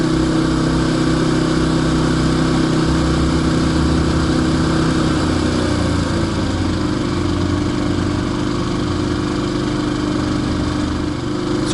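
A Champion dual fuel generator, used for full-time RV living, runs in economy mode about four feet away. Its steady mechanical hum drops slightly in pitch early on, then holds even and unbroken.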